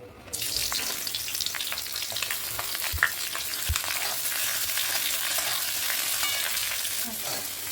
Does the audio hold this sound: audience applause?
no